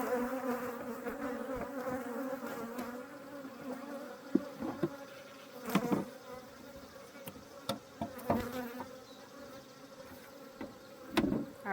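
Upset honey bees swarm around an opened hive, a dense continuous buzz of many insects close by, with louder individual bees zipping past the microphone now and then amid light handling knocks.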